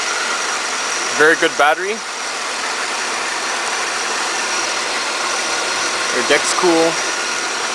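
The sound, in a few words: 1998 Oldsmobile LSS engine idling, M90 Roots supercharger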